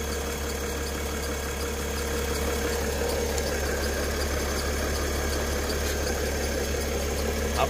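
A Mercedes Airmatic air suspension pump runs on a car with a pressure leak at the top right corner, giving a steady, even hum with faint rattling that holds unchanged for several seconds.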